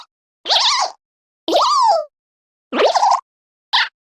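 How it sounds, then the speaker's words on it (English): Nabbit's older voice clips from the Super Mario Bros. U video game, four short high-pitched squeaky cartoon chirps separated by silence, each bending in pitch and sounding clean and close. "Rather than only making a couple of squeaking sounds, Nabbit sounded more expressive with these new voice clips."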